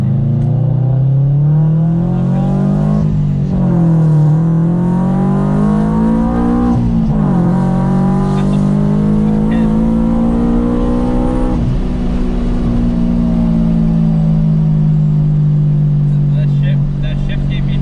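Loud revving of a boosted Subaru BRZ engine echoing inside a tunnel, the pitch climbing and dropping through several gear shifts, with people talking underneath.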